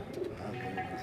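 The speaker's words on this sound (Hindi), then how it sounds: "ये कौन सा कबूतर है आपके हाथ में? ये पट्टी वाला है?" A patti-wala pigeon held in someone's hand gives a short, low coo, close and brief, under outdoor background noise.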